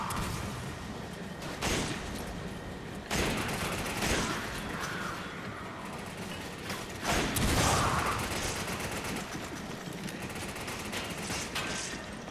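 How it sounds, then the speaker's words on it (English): Gunfire in the survival horror game Resident Evil 5 on PS4, repeated bursts and single shots spread across the span over a steady mechanical background, fairly loud and close. "Ow, who's shooting me?"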